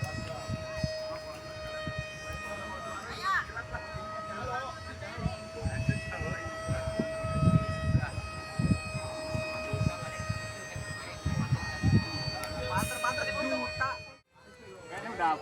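An RC Su-27 jet model powered by a LiPo battery holds a steady, high tonal whine with strong harmonics at high throttle, outdoors and fairly loud, while people chat nearby over it until it cuts out briefly near the end.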